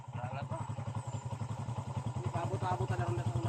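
A motorcycle engine idles and revs close by with a steady pulsing putter on a rough village road in the Philippines, while people talk over it throughout.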